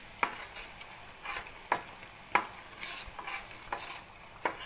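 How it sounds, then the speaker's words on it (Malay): Spices and lemongrass are stirred in hot oil, a spatula scraping the pan in quick repeated strokes over a quiet sizzle, close and fairly soft. "Kita goreng lagi ya, tumis lagi."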